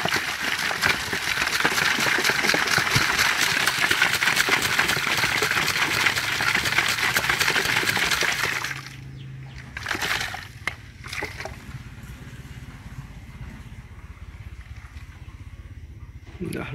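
A closed bottle of liquid for culturing nitrobacter shaken hard, a steady sloshing rattle for about eight seconds, then stopping, followed by quieter handling and a few soft knocks.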